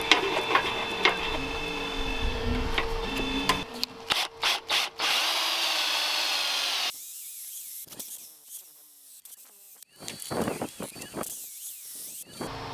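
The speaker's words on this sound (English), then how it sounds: "I'm going to use my drill as a lathe" A power drill used as a lathe, with threaded rod chucked in it, whirs steadily, spinning up and winding down in several bursts with brief pauses, close by.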